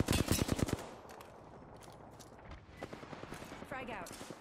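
Rapid bursts of gunfire crack in the Apex Legends video game, a loud volley at the start followed by quieter, scattered shots and game effects.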